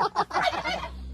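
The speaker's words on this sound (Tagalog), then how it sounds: "It's turkey." A turkey on a small farm gobbling once, a quick rapid warbling burst close by followed by a short fading tail.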